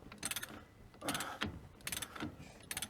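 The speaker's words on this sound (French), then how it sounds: "Si vous n'avez pas un gros cliquet comme ça, il vous suffira juste un bras de force" A large ratchet clicks in quick bursts, loosening a nut on a 2.0 HDI 110 hp engine in a Citroën C8, four short ratcheting runs, close but fairly quiet, with no talking.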